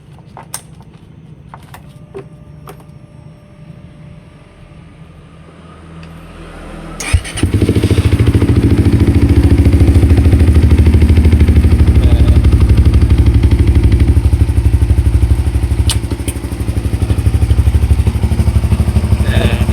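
A motorcycle fitted with a new chain starts after some clicks and quiet handling, its engine catching and settling into a loud, close, steady idle that runs to the end with slight revving.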